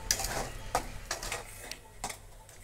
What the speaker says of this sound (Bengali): হালকা আঁচে এটা এইভাবে নাড়তে থাকবে।